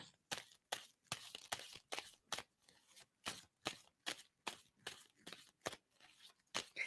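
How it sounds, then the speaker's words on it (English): Tarot cards being shuffled by hand, a quiet run of crisp riffling bursts in an irregular rhythm, close and soft, alone without voices. "tell me to stop shuffling on that"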